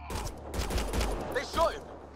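Gunfire erupts in a Mass Effect Andromeda firefight, a quick burst of muffled shots under a busy game soundscape, with a short synthetic whine near the end.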